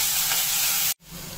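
Onion sizzles in a pan for Bhogi sabji, a steady close hiss of frying that cuts off abruptly for a moment before the sizzle resumes.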